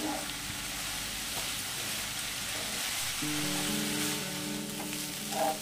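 Ridge gourd (chichinga) pieces frying uncovered in a pan over a high gas flame, giving a steady, close sizzle throughout with occasional stirring scrapes and a faint hum in the background.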